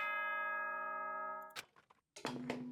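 A sustained bell-like chime rings out in the video game Danganronpa: Trigger Happy Havoc, holding a steady tone before cutting off, followed by a short clatter and another tonal sound.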